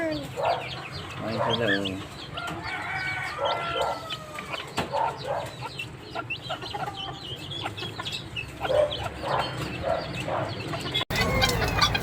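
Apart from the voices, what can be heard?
bantam hen clucking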